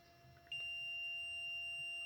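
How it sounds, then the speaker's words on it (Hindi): A multimeter's continuity beep while testing the fuel pump wiring of a Honda Shine BS6 motorcycle, one steady high tone that starts suddenly and holds, faint with no talking. "तो इसमें भी बीप का साउंड आ रहा है"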